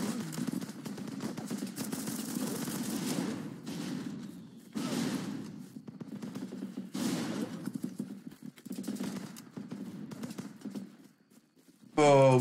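Rifle volleys crack in bursts during a trench fight in Running with Rifles, a series of loud clustered shots coming in waves between brief lulls, mixed with battle noise and voices.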